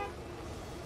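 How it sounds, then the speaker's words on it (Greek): A car horn honks in the Gas Station Simulator video game, one sustained toot that carries on steadily at moderate volume with no talk over it. "Κόρναρε κιόλας."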